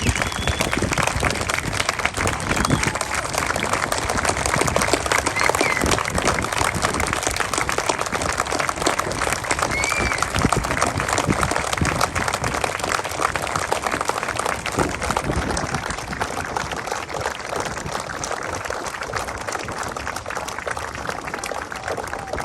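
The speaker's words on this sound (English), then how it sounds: "So I'd like everyone to please give a round of applause for Captain Brett Chopper Crozier." Sustained applause from a seated audience fills a naval captain's retirement ceremony, a dense, steady clatter of many hands that holds at an even level for over twenty seconds before easing slightly toward the end.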